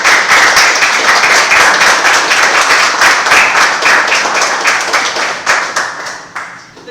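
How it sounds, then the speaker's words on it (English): An audience at an artist talk claps in a steady, dense round of applause, loud and close throughout, thinning toward the end with a few scattered final claps. "A little round of applause."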